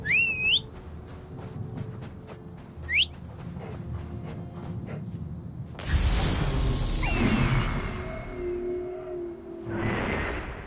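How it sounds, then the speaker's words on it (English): Sandstorm wind rising in the video game Assassin's Creed Origins, a swelling whoosh that builds to a loud, broad roar partway through after quieter ambience with bird-like whistles. "The wind rises, and the sound with it. Sandstorm coming."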